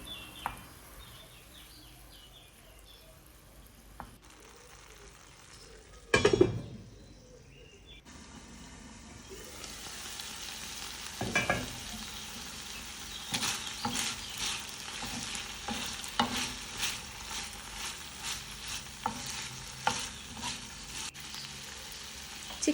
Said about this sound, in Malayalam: ഒലിവ് ഓയിൽ ചൂടായി വരുമ്പോൾ അതിലേക്ക് ചിക്കൻ ഇട്ട് കൊടുക്കുക.